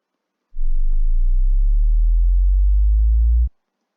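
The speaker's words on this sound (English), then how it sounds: "we have this reverse sub drop, which I'm absolutely obsessed with" A deep, loud sub-bass tone swells up and then cuts off abruptly after about three seconds, with no other sounds around it.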